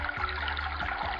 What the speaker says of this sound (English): listen to that water just drain